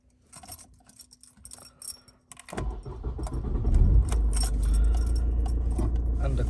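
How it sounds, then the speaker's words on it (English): Keys jangle and click as an Opel Meriva's ignition turns, then the engine cranks and catches, settling into a steady close idle that swells louder toward the end. "And the car starts."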